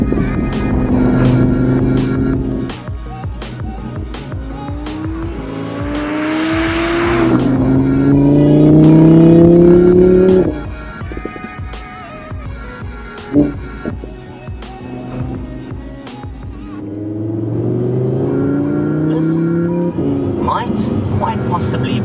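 A 2021 Audi R8 V10 Plus Spyder is driven hard, its V10 engine revving up through the gears with a rising and falling roar and sharp shifts. The sound is loud and close, with a brief lull in the middle.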